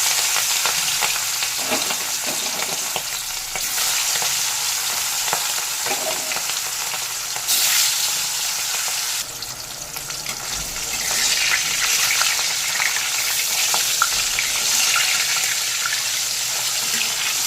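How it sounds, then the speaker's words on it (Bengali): Hilsa fish rubbed with salt and turmeric fry in hot mustard oil in a wok, giving a loud, constant close-up sizzle with a brief dip midway before it swells again. "তেল গরম হয়ে গেছে, এবার নুন হলুদ মাখানো ইলিশ মাছগুলোকে দিয়ে ভেজে নেব।"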